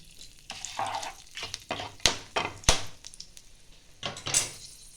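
Bay leaf, two cardamom pods, two pieces of cinnamon and four cloves hit hot oil in a Bengali kitchen, giving a close, irregular sizzle with sharp crackles and pops as they are stirred, no voices present.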